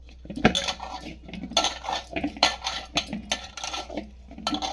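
Rice flour mixture with oil being stirred in a bowl for a rice flour breakfast dish, giving repeated clinks and scrapes of a spoon against the bowl, close and fairly loud, with no talking.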